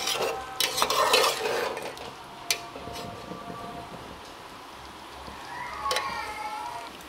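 Chicken and potatoes are stirred in a cooking pan, a spoon scraping and clinking against the metal over a soft sizzle, loudest at first, then a few sharp knocks and quieter scrapes.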